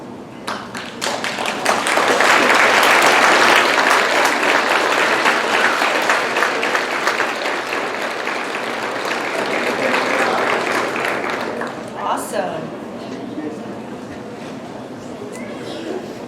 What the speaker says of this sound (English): please stand and turn and give applause to your family and friends